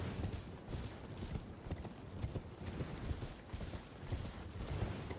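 Horse hooves gallop across ground in the Elden Ring video game, a steady, rapid clip-clop rhythm running continuously at moderate volume over a busy game soundscape, with no talking.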